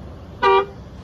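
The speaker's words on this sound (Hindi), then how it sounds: "लाइट्स और हॉर्न आपको बजने लगनी है" A single short toot of a Mahindra Thar RWD automatic's car horn, set off from the key fob to locate the parked vehicle, heard once as a clear bright honk lasting about a quarter second against quiet background.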